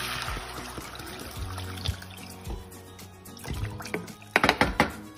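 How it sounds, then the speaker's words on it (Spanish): Water poured into a pot of tomato soup with sautéed tomato, onion, garlic, potatoes and paprika, giving a short splashing, trickling fill with a few soft thunks, close up and moderately quiet, louder splashes near the end. "Ponemos el agua."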